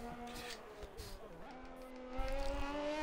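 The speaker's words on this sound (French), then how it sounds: "Là, c'est la Ferrari à Poulain qui va arriver sur la ligne" Ferrari race car in a racing video game crossing the line on a virtual Austrian track, its engine a steady high-pitched whine that rises slightly as it approaches, loud and continuous throughout.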